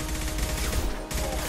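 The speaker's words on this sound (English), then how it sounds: "Taking heavy fire!" Heavy gunfire in the Mass Effect 2 video game, a dense continuous barrage of rapid shots with a brief cut near the end before the firing resumes, loud and close.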